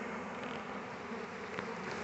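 A huge swarm of bees hums continuously, a dense, steady buzz filling the air at close range without any voices.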